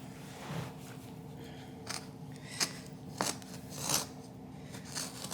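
A blade cutting into carpet during a repair makes several sharp, snipping cuts at irregular intervals, close and fairly quiet, with no talking.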